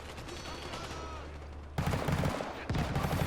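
Gunfire in the multiplayer shooter World War 3 opens as quiet background shots, then erupts into two loud bursts of rapid automatic fire separated by a short gap.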